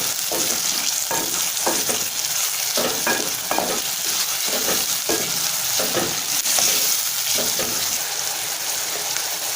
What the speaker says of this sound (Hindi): हाफ टेबल स्पून में इसमें नमक का डालूंगी और इसे अच्छी तरह से मिक्स कर दूंगी